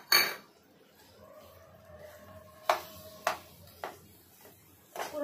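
Milk and milk-powder mava being stirred into a pot of basundi, with soft scraping and a few sharp metallic clinks of a spoon against the pan, fairly quiet and close.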